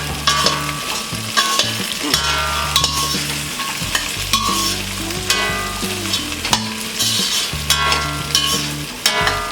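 Beans, carrots and green peas being stirred in a hot pan for aloo pulao, a loud sizzle broken by repeated scraping strokes of a spoon at an uneven rhythm, close up with no voices.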